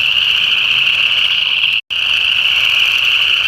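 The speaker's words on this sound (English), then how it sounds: "They're getting definitely drowned by the chorus frog calls, which are super loud." Chorus frogs call loudly and continuously as a dense, steady trilling chorus in late winter, with only a brief moment of silence partway through.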